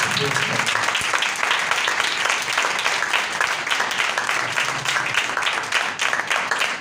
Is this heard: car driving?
no